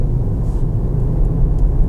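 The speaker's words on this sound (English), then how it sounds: "That was the petrol engine doing that with the electric engine." A 2016 Toyota Prius hybrid drivetrain pulls hard, petrol engine and electric motor working together in a steady, loud low rumble with road noise, continuous and without talk.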